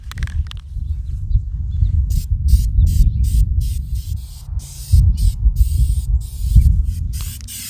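An aerosol can of waterproof sealant sprays in a long steady hiss, pausing briefly a couple of times before resuming, with rhythmic ticking clicks running alongside.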